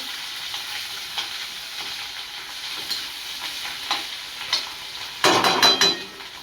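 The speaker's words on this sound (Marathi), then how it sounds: "आपला उकडून घेतलेला बटाटा पण घालून घेणार आहे त्याच्यामध्ये, छान असं मिक्स करून घेऊ।" Green chili and boiled potato being mixed in a pan for sabudana khichdi, soft steady sizzling with light stirring taps, then a burst of louder scraping near the end, close and with no speech.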